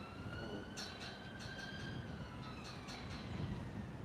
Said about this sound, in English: I can hear a police siren as well.